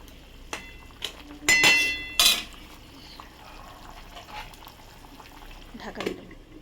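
Fish dropped into a boiling broth for a potato and parshe fish curry, with sharp metal clatters of a spoon and pot, stirring, then a lid set over the pot, followed by a low simmer and another clink near the end.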